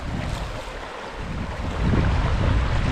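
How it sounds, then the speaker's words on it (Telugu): Fast-flowing river water rushing in a fishing spot, a continuous broad roar with wind buffeting the microphone, swelling louder toward the end. "చూడండి నీళ్ళు స్పీడ్గా పోతున్నాయి"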